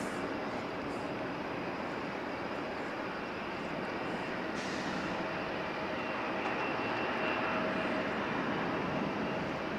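A steady, broad roar of airplane engines at LAX airport, continuous and fairly distant, with a low rumble that builds slightly over the stretch and no voices.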